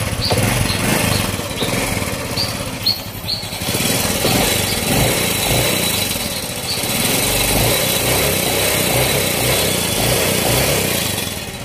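A tuned Honda Wave motorcycle engine, loud and close, idling with a buzzing rattle, then revving up and down in repeated surges, a short sharp knock near the start, with no talk over it.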